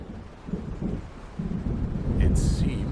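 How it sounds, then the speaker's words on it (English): A thunderstorm approaches in the video game Alan Wake Remastered, with deep rolling rumbles swelling under steady wind and rain noise, building louder toward the end alongside a brief hiss. "It seems there's a storm coming"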